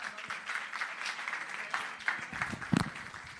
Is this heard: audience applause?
yes